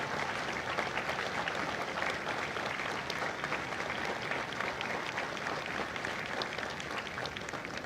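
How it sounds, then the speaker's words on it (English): An audience at a Marine Corps recruit graduation at MCRD San Diego applauds Marine veterans, a steady, sustained wash of many hands clapping in a large crowd, heard at some distance with no break. "a round of applause for their dedicated service to corps and country"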